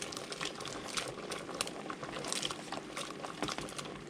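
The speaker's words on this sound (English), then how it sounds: "so we're boiling" Water bubbling and simmering in a pot for cooking prawns, a soft continuous rumble with small pops and gurgles, fairly quiet, no voices.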